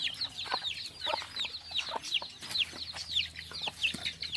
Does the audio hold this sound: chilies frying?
no